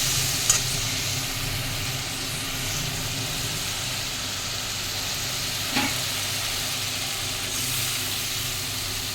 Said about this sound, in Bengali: মাছের তেলে যেটা ছিল সেটাই আমি এটা ভালো করে কষাবো